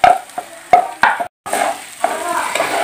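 Rice for basanti polao is stirred in a hot pan over a lowered gas flame: a few distinct scraping strokes of the spoon, a brief pause, then steady close frying hiss with no talking.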